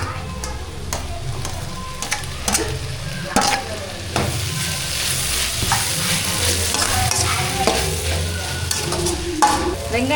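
Steady sizzling and crackling of onions and tomatoes sautéing in a pan, with occasional stirring clatter, continuous and fairly loud.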